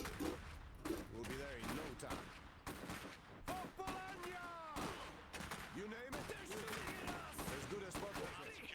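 Rapid rifle fire and scattered shots rattle through an Iron Harvest battle in a tournament match, dense and continuous beneath excited commentary.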